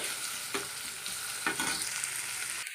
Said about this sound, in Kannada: ನಾವು ಈರುಳ್ಳಿಯನ್ನು ಸ್ವಲ್ಪ ಎಳೆ ಉರಿನಲ್ಲಿಟ್ಟು ನಾವು ಇದನ್ನು ಫುಲ್ ಬ್ರೌಂಡು ನಾವು ಗೋಲ್ಡನ್ ಬ್ರೌನ್ ಬರೋ ತನಕನೂ ಫ್ರೈ ಮಾಡ್ಕೋಬೇಕು